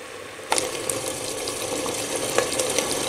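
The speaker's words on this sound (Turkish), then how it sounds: "Kuru soğanı ve eti güvecin içerisine döktüm ve de hızlı bir şekilde sotelemeye başlayacağım." Chopped onion and cubed beef hit a hot clay pot with butter and burst into a sudden loud sizzle, which holds steady with light scraping clicks from quick stirring and no talk.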